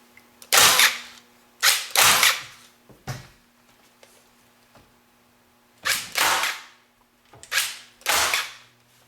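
A staple gun fires into a pool table rail as the cloth is fastened: sharp, loud snapping bursts come in pairs and singles, with quiet pauses between them.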